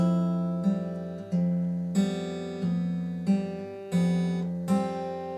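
Acoustic guitar picks a bar of a song as a steady run of evenly spaced plucked notes, each ringing and decaying before the next, close and clean with no talking.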